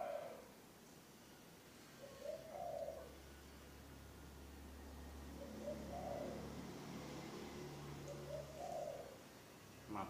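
A zebra dove (perkutut) coos quietly while a leg ring is fitted using aloe vera as a lubricant, giving three soft, spaced cooing phrases over a low, steady background hum.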